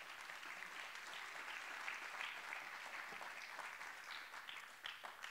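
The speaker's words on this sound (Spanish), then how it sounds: "Dele un aplauso al Cristo de la gloria." A church congregation claps for Christ during a sermon on ministers, giving soft, distant, continuous applause that holds evenly for several seconds without any voices.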